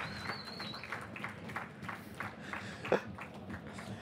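Quiet, sparse applause breaks out for a goal at a FIFA22 esports showmatch in Montpellier with Montpellier HSC players. The claps are scattered and thin and sound somewhat distant, over a low room murmur.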